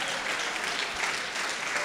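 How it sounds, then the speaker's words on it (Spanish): A church congregation applauds a pianist with brisk, dense clapping that stays loud and even throughout the short burst. "¡Un aplauso para el pianista!"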